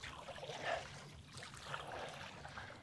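Kayak paddle stroking through water during a training session, a steady watery swish and splash repeating at close range, fairly soft with a continuous low rumble underneath.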